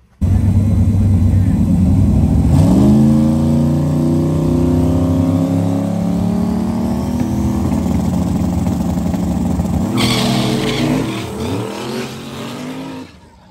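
A Mazda RX-7 no-prep drag car roars loudly and continuously, engine revving hard through rising gear pulls, then a burst of harsher noise near the end as the run ends against the wall.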